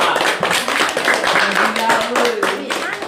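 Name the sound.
applause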